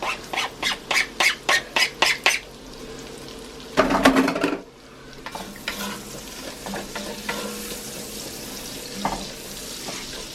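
Fresh garlic goes into a cast iron pot for loaded potato chowder: a quick series of rhythmic scraping stirs, a louder scrape and clatter, then a steady low sizzle with occasional utensil knocks, no speech.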